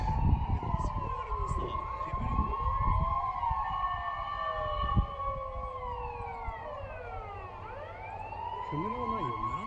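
Police car and fire engine sirens wail and overlap continuously during a mountain fire near a golf course, several sweeping tones at once, moderately distant, with wind noise and people talking nearby.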